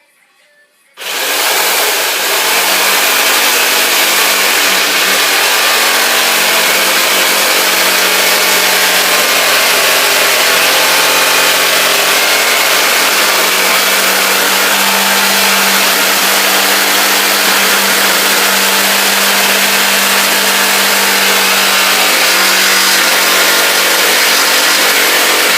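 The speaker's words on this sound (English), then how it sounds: "Always clamp your wood securely when you're using the jigsaw" Jigsaw cutting clamped wood for an Adirondack chair, starting abruptly after a second of quiet and then running loud and steady for the rest of the clip with a constant buzzing whine.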